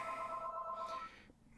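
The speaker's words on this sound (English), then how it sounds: "The phone is ringing." A telephone rings faintly in the background, a soft electronic tone holding for about a second before fading out.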